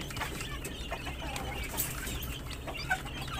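One-month-old Asil chickens cluck softly and intermittently amid a low rumbling background, with a few sharper chirps scattered through.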